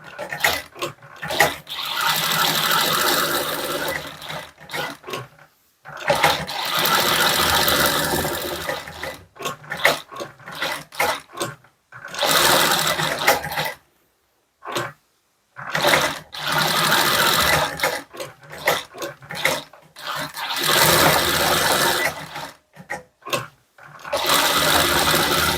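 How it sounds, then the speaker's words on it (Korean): A sewing machine runs a topstitch with a 5mm presser foot along a hooded trench coat, whirring in several sustained bursts separated by short pauses, close and clear with no speech. "노루발 하나 5mm로 스티치 하겠습니다"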